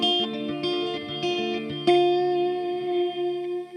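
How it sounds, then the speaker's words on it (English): An electric guitar plays through an Electro-Harmonix Oceans 12 dual reverb pedal, a quick run of notes ending in a sustained chord that swells and lingers in a lush, shimmering reverb tail, with no speech. "Yes, this is a dual reverb."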